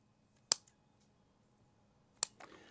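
Pruning shears snip a branch on a Korean hornbeam bonsai: two sharp, close clicks about two seconds apart in a quiet room, the second followed by faint rustling.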